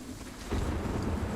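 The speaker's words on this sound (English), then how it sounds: "We have a dynamic weather system, so now it's raining." Rain from the dynamic weather in the Sniper Ghost Warrior 3 video game, a steady broadband wash with wind-like rushing that swells after a moment and continues without speech.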